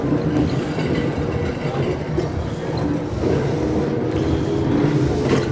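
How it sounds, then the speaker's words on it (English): A Blackpool tram runs by at night on a busy street, its steady rolling rumble and faint wheel rattle carrying continuously under the general hum of a crowded seafront. "Look at this tram, life without limits."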